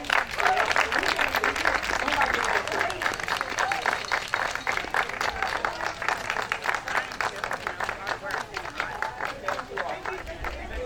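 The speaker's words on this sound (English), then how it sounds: "Round of applause for them, please." Dense audience applause fills a Juneteenth community gathering in Hyde Park, Boston, steady and close for about eleven seconds, with a murmur of crowd voices beneath the clapping.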